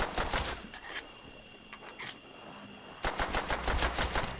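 Pistol shots fired at zombies in Call of Duty zombies on the Shi No Numa map: quiet, quick clusters of shots at the start and again near the end, with calmer game ambience between them.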